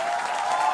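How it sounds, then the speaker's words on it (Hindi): An audience at an Aaj Taq television debate bursts into dense, continuous applause, loud and brief with no voices over it. "तालियां बजाइए भाई रविंद्र रैना जी के।"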